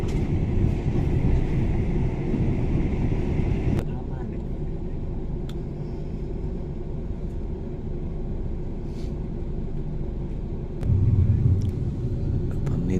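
A steady low rumble of a train rolling along rails near Hua Hin, Thailand, continuous throughout, with brief clanks and a louder surge near the end.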